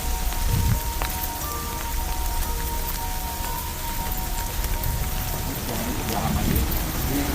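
Steady rain falls at a sacred cemetery under trees, pattering densely on surfaces and leaves as a constant, close wash of drops.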